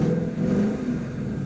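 A 2015 Ford Mustang with a V8 engine and manual gearbox rumbles at idle just after starting, a deep, steady, fairly close engine note with no voices over it.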